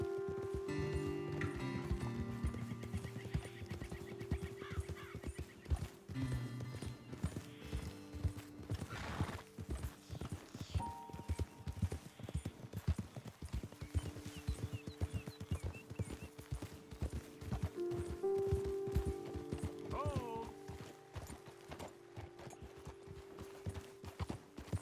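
Horse hooves clip-clop steadily at a riding pace through Red Dead Redemption 2 gameplay, near and continuous for the whole stretch with a brief whinny, under low game music and ambience.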